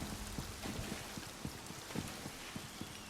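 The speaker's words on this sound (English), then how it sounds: "raining inside the tower and up here above it" Rain falls inside a tower in a fantasy video game set on Khenarthi's Roost, a soft constant patter of drops with faint irregular taps, quiet and alone.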